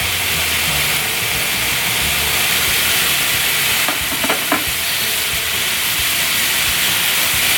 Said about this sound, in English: now that our meat is browned, we're going to go ahead and add in the tomato and cook that until it's